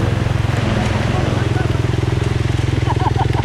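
A trail motorcycle's engine runs steadily and loudly on an off-road mountain route, the Jalur Langit Mendu, with a continuous throbbing drone while people talk over it.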